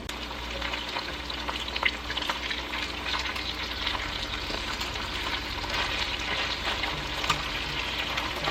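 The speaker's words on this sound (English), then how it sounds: "After adding in your meat, go ahead and allow it to cook until they are nice and brown." Pieces of beef browning in hot oil inside a Dutch oven, with a steady, dense sizzle and crackle of frying running throughout at close range, and no talking over it.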